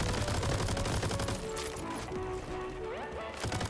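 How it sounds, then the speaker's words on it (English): Dense, loud video game combat noise with rapid gunfire, crashing impacts and a grenade blast, packed together as continuous battle chaos with game tones rising in the background. "Grenade!"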